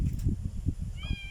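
A cat meows once, short and fairly close, after a run of low thumping handling noise, with no voices over it.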